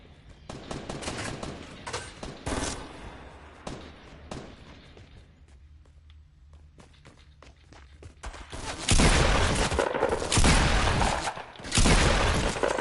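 Assault rifle fire in the video game Fortnite, rapid bursts of sharp shots, with scattered cracks early on and then dense, loud volleys near the end.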